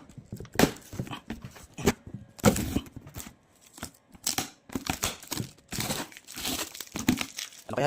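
A mystery box package is opened, its wrapping crinkling and rustling in close, irregular bursts of handling with brief pauses between.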